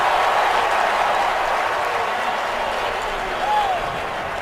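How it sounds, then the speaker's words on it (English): Stadium crowd at the 2013 AFC Championship football game, Patriots at Broncos, a broad sustained roar of cheering and applause, loud and even, with a brief whistle near the end. "as quiet as that crowd is when Peyton's on the field, they're every bit as loud when he's off the field"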